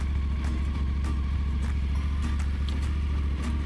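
A motorcycle engine warms up in the Australian outback near Karijini, a close, loud, steady low-pitched idle rumble with a regular throbbing pulse and no clear surge of revs.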